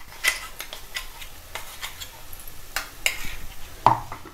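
Coarsely ground horse gram is sautéed in a Malvani masala paste, giving a faint, soft sizzle broken by several light scrapes and clinks of a spoon against the pan.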